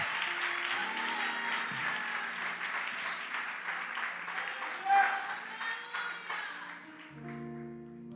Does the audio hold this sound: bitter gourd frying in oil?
no